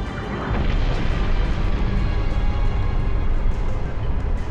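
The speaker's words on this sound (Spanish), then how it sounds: "Le va a caer una explosión a la corbeta." An explosion strikes a corvette in the video game Halo: Reach, a dense, sustained rumbling roar holding steady and loud throughout, with no talk over it.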